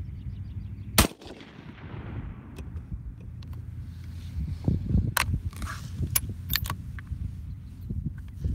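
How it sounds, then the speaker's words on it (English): Gunshots from a fairly new bolt-action gun aimed at the left target of a shooting range: a few sharp, loud cracks spaced seconds apart over low rustling and handling noise. "So I'm shooting at the left target now"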